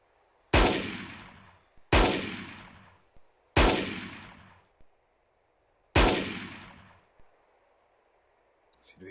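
Four loud, evenly spaced single shots from an M1 Garand rifle in the ArmA 3 IFA3 WWII mod, each sharp crack followed by a decaying echo, with no talking.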